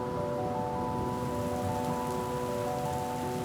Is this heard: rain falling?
yes